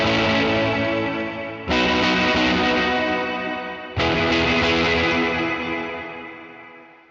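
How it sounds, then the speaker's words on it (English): Electric guitar through an Electro Harmonix Holy Stain pedal with full reverb, played as loud strummed chords that swell into long, washy trails; two fresh attacks restart the sound before it slowly fades, with no talking. "The reverb trails are really long."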